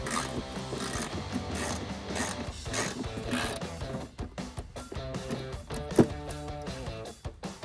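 A 10 mm socket ratchet loosening a headlight nut on a 2005-2009 Toyota Tacoma, with steady close-up clicking pawl strokes in a quick rhythm, loud and alone, plus a sharp knock near the end.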